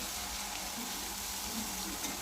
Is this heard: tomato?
yes